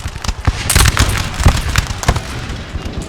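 Cannons firing canister shot in the Napoleon Total War battle game: a loud, dense run of booms and cracks, several blasts overlapping closely in a short burst with no pauses between them.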